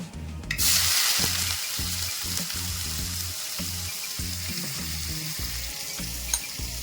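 Mustard seeds frying in hot oil for sambar, a loud continuous sizzle with a burst of crackling at the start, under rhythmic low thumps through the background.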